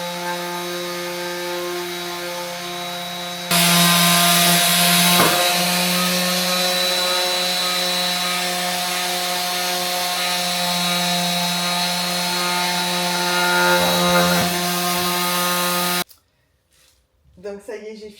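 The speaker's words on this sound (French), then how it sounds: "j'ai fini de poncer le premier pied" A power sander working on a wooden furniture leg, a loud continuous buzzing drone with a steady tonal hum, rising in intensity partway in and then cutting off near the end.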